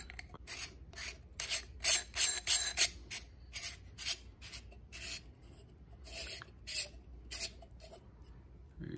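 Rhythmic metal-on-metal rasping as a 3-inch sunshade is threaded onto the end of a Pinty 3-9x40 budget rifle scope, a close series of short scratchy strokes with brief pauses between turns, no talking.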